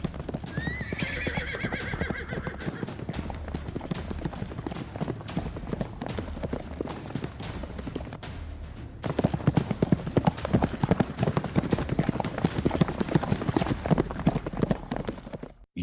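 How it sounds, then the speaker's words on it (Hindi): Horses gallop in as an approaching army cavalry, hooves clip-clopping in a dense steady rhythm that swells louder halfway through, with a horse whinnying near the start. "घोड़ों के पैरों की आवाजें आ रही थीं।"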